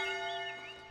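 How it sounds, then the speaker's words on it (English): Church bells toll in a medieval city building video game, a sustained ringing tone with layered overtones that slowly decays, heard alone without talk. "Hey, we can ring our bells."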